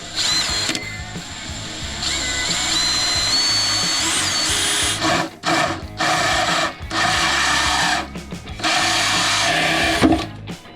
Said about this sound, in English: So I have to drill in this structural member